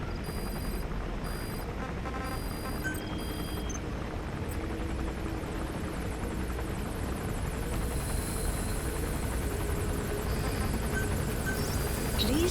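Support helicopter in Metal Gear Solid V, a steady rotor whir and engine drone running throughout, with faint alarm-like beeps early on.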